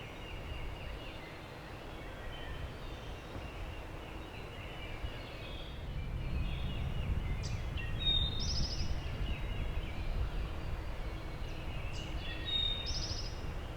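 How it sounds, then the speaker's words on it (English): Wild turkeys gobble during a spring hunt, faint, distant bursts coming twice through heavy wind rumble outdoors. "I'm hearing 2 turkeys, I think."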